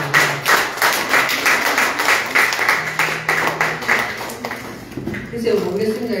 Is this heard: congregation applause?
yes